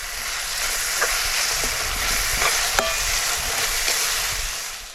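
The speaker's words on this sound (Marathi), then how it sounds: "आता आपण ह्याच्यामध्ये टोमॅटो टाकूया टोमॅटो पण चांगलं असं नरम करून घ्यायचं" Tomatoes fry in a pan on a wood-fired stove, giving a steady, close sizzle while a spoon stirs and scrapes with a few soft knocks against the pan.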